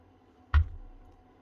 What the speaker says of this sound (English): That's what the actual pin was banging off these holes.